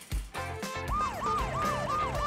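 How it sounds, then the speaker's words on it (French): A toy ambulance siren from a doll play scene wails in a steady rising and falling pattern. It begins after a few short knocks and stays loud and close throughout, with no talking. "L'ambulance est arrivée."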